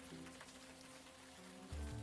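Steady rain falls throughout a scene in the video game Unavowed, a soft continuous hiss over low ambient music tones, with a brief deeper swell near the end.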